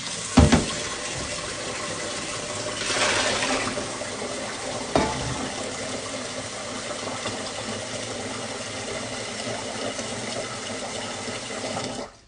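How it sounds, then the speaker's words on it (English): Rice being rinsed in a pot under running tap water gives a steady wash of splashing and pouring, with a couple of sharp knocks, continuous and close with no talking. "there was still starch left in the rice, and I'm just rinsing it off now"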